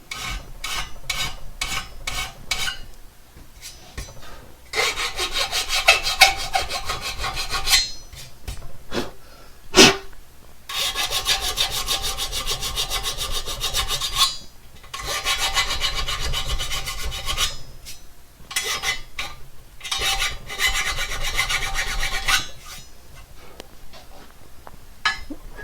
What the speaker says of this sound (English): When you're using a file, you're only cutting on the forward stroke.